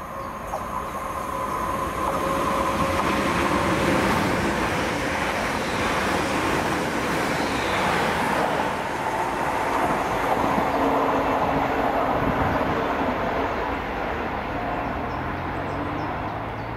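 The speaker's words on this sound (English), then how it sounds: "my first catch today was 1209, the 1105 ScotRail service to Largs from Glasgow Central with 380108 and" A ScotRail class 380 electric passenger train on the Glasgow Central to Largs service rolls loudly past Howwood station, a sustained close rumble and rail roar lasting the whole stretch with no voices.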